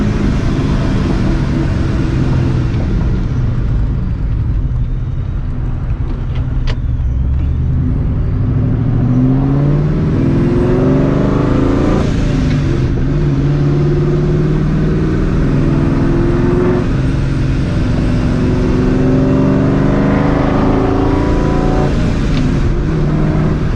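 Supercharged 2004 Mustang GT engine revving and downshifting, with rising and falling revs echoing steadily and loudly throughout, heard from inside the car.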